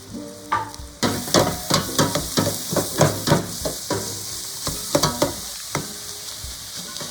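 Vegetables for beef stew sauté in a pot over a low flame, a soft sizzle running beneath repeated close stirring knocks and scrapes at a fairly even pace.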